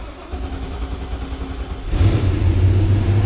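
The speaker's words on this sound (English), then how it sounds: "Ooh, V8 purring." A V8 engine on a cheap wrecked surf boat idles with a steady mechanical rumble, then fires up louder at about two seconds into a deep, continuous revving drone.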